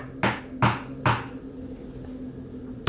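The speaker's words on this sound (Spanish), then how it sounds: "Tocaron con mucha fuerza la puerta" Three loud, evenly spaced knocks strike a door up close and echo briefly. A fourth sharp hit lands at the very end.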